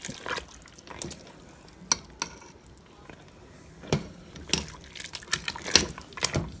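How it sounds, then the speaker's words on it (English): Oxtails simmering in gravy in a pot, stirred with a spoon: scattered wet clacks and sloshes against a faint bubbling background, irregular and close, no talking. "I'm gonna go ahead and give this a nice big stir, make sure nothing's sticking at the bottom"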